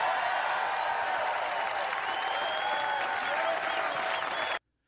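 Crowd at a Trump speech cheering and applauding, a dense, steady roar of clapping and shouting that holds at one level for over four seconds, then cuts off abruptly.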